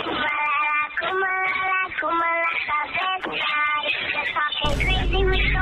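A cartoonish cat meows repeatedly in a Roblox game, in a steady series of close, bright calls, with a burst of noise near the end.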